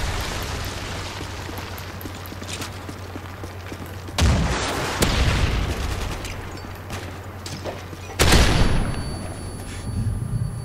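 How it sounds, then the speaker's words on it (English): Heavy explosions from a Predator missile strike in Modern Warfare 3 multiplayer, two loud broadband blasts a few seconds apart over constant low gunfire and battle rumble, with a smaller burst near the end. "Friendly Predator missile inbound."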